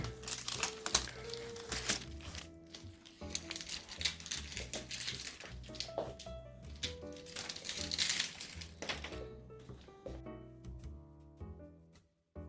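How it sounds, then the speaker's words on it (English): Protective plastic film being peeled off a Samsung 49-inch ultra-wide monitor, a long steady crinkling strip that goes on for many seconds up close, with soft rustling and no talking. "A really long and satisfying peel."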